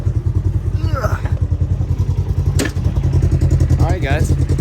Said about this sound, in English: So this is it right now. The GGB exhaust.